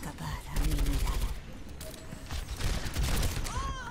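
Rapid bursts of gunfire from the Overwatch video game crackle through a busy in-game soundscape, with volleys repeating across the clip.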